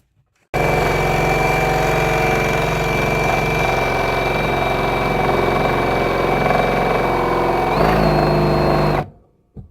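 A power drill runs with a loud, steady mechanical whir for several seconds, with a brief pitch shift near the end before it cuts off abruptly.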